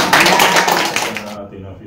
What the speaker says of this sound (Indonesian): Tepuk tangan meriah untuk kita semua